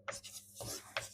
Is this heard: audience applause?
no